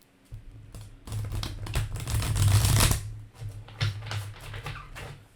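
Tarot cards being shuffled by hand, a dense riffling and rustling that swells in the middle and then breaks into shorter flicks and taps, close and fairly loud with no talking.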